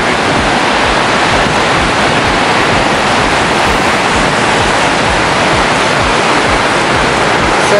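Water rushes in a steady, loud, broadband wash that does not let up, close and continuous for several seconds with no voices heard.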